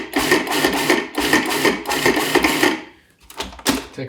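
Food processor pulsing fresh basil for pesto, loud close whirring bursts in a run of several pulses, then a brief pause and two shorter bursts.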